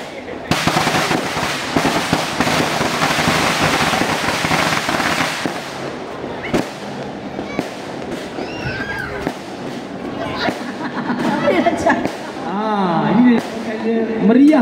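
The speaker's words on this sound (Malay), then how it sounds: "Bunyi mercun." Firecrackers at a Hari Raya open house, a loud, dense barrage of crackling bangs for several seconds, then scattered pops as people talk and shout nearby.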